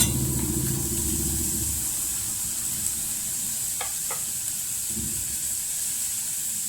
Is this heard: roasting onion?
yes